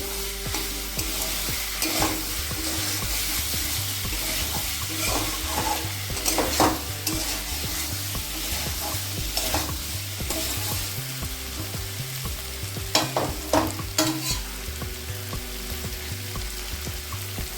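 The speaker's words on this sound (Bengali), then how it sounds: "এবার এটাও ভালো করে মিশিয়ে নেব আলুর সঙ্গে" A ginger, cumin and dried chilli spice mix is stirred into potatoes frying in a pan for a thin potato curry, a continuous close sizzle with repeated spatula scrapes, over a steady low rhythmic hum.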